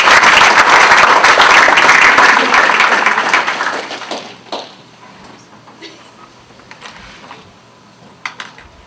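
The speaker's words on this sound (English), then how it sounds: "can we give Frank a big round of applause?" A lecture audience applauds to welcome Frank Clark to the stage, loud and full at first, then thinning and fading away to a few scattered claps.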